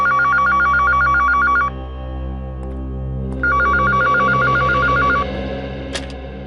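A telephone rings in two loud, close bursts of rapid electronic warbling trills, each lasting nearly two seconds, separated by a pause with a low background hum; a brief click follows near the end.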